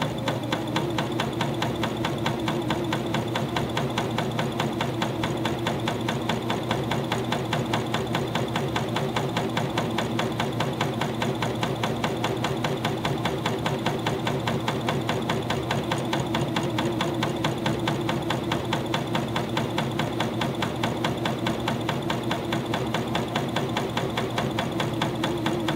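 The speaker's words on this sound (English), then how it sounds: "Let the machine feed it nice and evenly." A cover stitch machine runs steadily through fleece fabric, its rapid needle beat forming a continuous even whir that stays close and loud throughout with no pauses.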